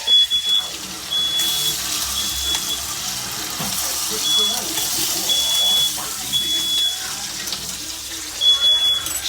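Bacon grease spattering in a hot frying pan, a busy crackling hiss with scattered pops beneath a steady high beeping tone, with a voice cutting in now and then.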